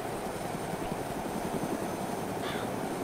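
Helicopter rotor and engine lifting off in the survival game DayZ, a steady dense whirring drone that stays loud and unbroken throughout, with no voices over it.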